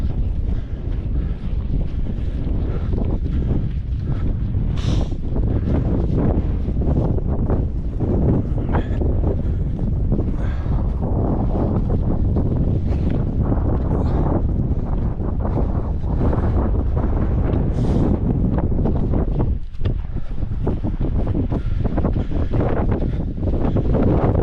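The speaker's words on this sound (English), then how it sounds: "Windy up here." Strong, steady wind roars and buffets the microphone for the whole stretch on a fell summit in the Lake District near Grasmere, with gusty rumble and no voices.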